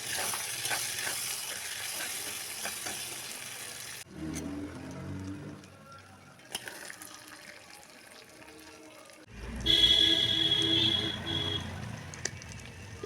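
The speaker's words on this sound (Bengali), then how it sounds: "আমি আঁচে একটা কড়াই বসিয়ে তাতে শুকনো লঙ্কা, তেজপাতা আর কালো জিরে ফোড়ন দিয়ে চাল কুমড়াটা দিয়ে দিই।" Dry red chillies, bay leaf and nigella seeds tempering in hot oil in a kadai, a close steady hiss and crackle that drops, shifts with a few clicks, then surges loudly again, no talking.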